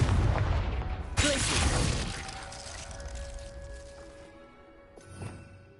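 A Confringo blast spell goes off in Hogwarts Legacy, a loud explosive burst with a crackling, shattering tail that fades over a few seconds, followed by a smaller magical pop near the end.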